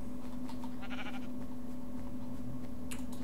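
Sheep bleating in Minecraft, a couple of short wavering bleats in the middle over a steady low game hum, with no talking.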